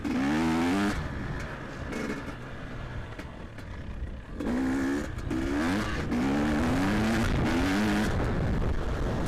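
A Can-Am 800 quad bike engine drones close and loud while riding, its pitch rising and falling as the throttle opens and eases through the run.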